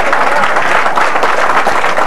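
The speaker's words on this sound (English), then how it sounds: "a real nice round of applause from this crowd here at beautiful Colonial Lanes" Steady, dense applause from a crowd at Colonial Lanes bowling alley during a bowling tournament, loud and close, sustained clapping without a break.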